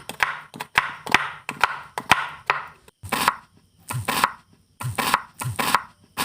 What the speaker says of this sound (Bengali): এবার এখানে দুটো পেঁয়াজকে একেবারে ছোট ছোট টুকরো করে কেটে নিচ্ছি